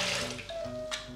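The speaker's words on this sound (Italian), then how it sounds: "nel boccale metto l'acqua" Water pours into a Thermomix TM5 mixing bowl in a kitchen, a short, close, gurgling trickle with a rising tone as the bowl fills.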